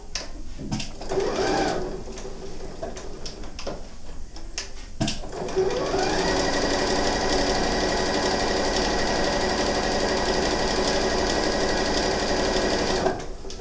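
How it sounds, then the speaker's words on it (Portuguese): A sewing machine stitching a zippered pouch with bias binding, a few short bursts first, then a long steady close whirring run of stitches that stops near the end. "Costurei bem em cima da máquina."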